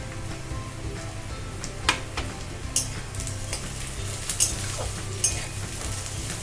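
Onions and chopped green chilies for chicken kosha sizzle softly in a pan while being stirred, with a steady low fry and several sharp spatula clinks against the pan.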